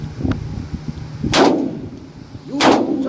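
Two sharp, heavy shots ring out about a second apart during a live-fire drill, each a loud crack with a short decaying tail over faint background rumble, no talking.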